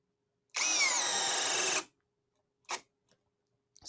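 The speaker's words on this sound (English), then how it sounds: "how big of a Diablo self-feeding paddle bit can this drill handle" A HyperTough 12V brushless drill bores with a Diablo self-feeding paddle bit, giving one loud, steady high-pitched whine of about 1.3 seconds that cuts off sharply, followed by a short knock and faint clicks.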